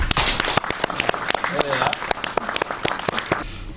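Dense applause from a crowd at an awards ceremony, many hands clapping rapidly and continuously at close range before tapering off near the end.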